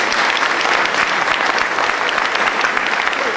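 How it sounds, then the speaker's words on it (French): Audience applause at an anniversary ceremony in Auron, a steady, dense clapping from a sizable crowd that holds evenly for a few seconds with no voices over it. "Vous pouvez l'applaudir."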